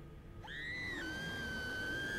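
Barbara Finch screaming in the video game What Remains of Edith Finch: a single sustained high-pitched scream that starts sharply and holds steady to the end, heard fairly faintly.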